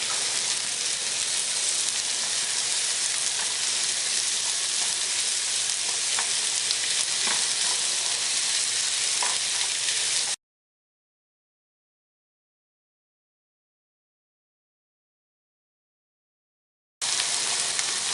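Onions and mushrooms fry and get stirred in a pan with a steady, dense sizzle and occasional scraping, close and constant for about ten seconds, then silence, and the sizzle returns briefly at the end.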